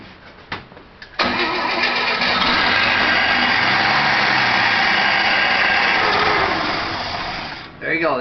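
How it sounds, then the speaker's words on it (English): A combustion engine running on a water fuel mix cranks briefly, fires and catches, then runs loudly at a steady idle close by before easing off near the end, with a voice briefly heard. "Now that fired off with the water, and they say water cannot burn in the combustion engine."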